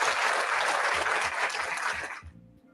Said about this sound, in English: Let's give Newbie a round of applause, y'all.